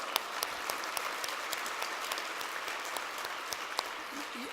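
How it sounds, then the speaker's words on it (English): An audience at a conference general session gives a woman a round of applause, a sustained, even wash of many hands clapping heard from a moderate distance, with no talking over it. "Could we give her a huge round of applause?"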